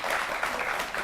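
Studio audience applause during a Hindi television political debate show: a brief burst of many hands clapping at moderate volume, steady and dense, with no talking in the clip.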